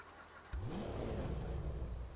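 The engine of a Lampadati Novak in Grand Theft Auto Online suddenly roars to life and revs hard, pitch climbing, loud and close, after a brief quiet moment.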